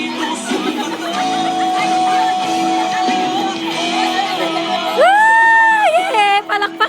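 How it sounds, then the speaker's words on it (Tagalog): An audience cheers and whoops loudly amid a crowd of shouting voices, with a high, drawn-out whoop rising near the end; the noise stays busy and close throughout. "Palakpakan! Palakpak nila!"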